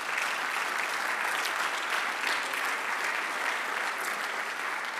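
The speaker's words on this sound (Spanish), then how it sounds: "Dale otro aplauso a nuestro Dios." Congregation applauding in a Spanish-speaking church service, steady dense clapping from a crowd throughout, moderately distant and even.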